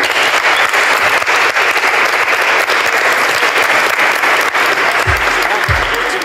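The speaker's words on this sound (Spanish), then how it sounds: "Ahí está el aplauso final, y mucha emoción." A crowd on a film set for the Ricardo Darín and Mercedes Morán movie "El amor menos pensado" breaks into loud, sustained applause, dense clapping filling the whole stretch, with some voices underneath near the end.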